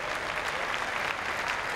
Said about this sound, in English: while you're clapping, swell the applause, please, for our judge